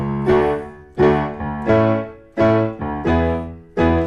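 Solo piano plays a steady sequence of chords from a song, each approached by a quick eighth-note leading note slipping in just before it, clear and close.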